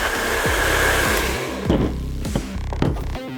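A heat gun blows hot air while warming graphics decals on a 2024 KTM 300 XCW motorcycle, making a close, steady whooshing roar with brief dips and handling bumps and no talking.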